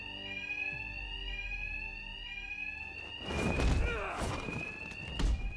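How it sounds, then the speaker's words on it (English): Alarm in the Batman: Arkham Knight video game rings in a continuous, shrill electronic tone throughout. Heavy thuds and impacts from a fight cut in during the second half. "My attacks will be covered by the noise of the alarm."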